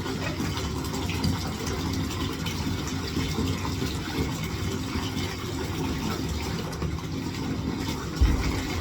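Detached CPAP machine parts rinsed under running water to clear away leftover soap, a steady, unbroken rush of flowing water that stays fairly loud from start to finish.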